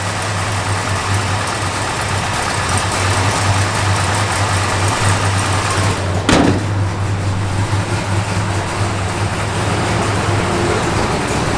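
A 1968 Plymouth Road Runner V8 idles with a lumpy cam: a steady, loud, low rumble that runs throughout, with one sharp knock or click partway through.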